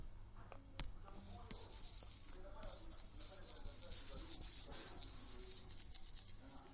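Writing being erased from a board during an economics tutorial, giving soft rubbing and scraping strokes at low volume with a few faint taps, heard without talk.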